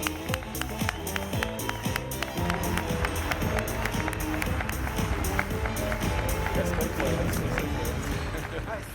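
A conference audience applauds in a dense, steady wash of clapping that continues for the whole stretch, with a faint murmur of voices underneath.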